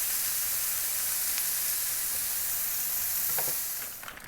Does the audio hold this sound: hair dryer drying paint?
no